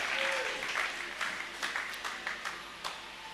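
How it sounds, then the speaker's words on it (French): A church congregation applauds a visiting missionary pastor, with scattered, moderately distant clapping that comes in uneven bursts and fades toward the end. "Acclamons encore une fois le missionnaire, le pasteur Django Michel"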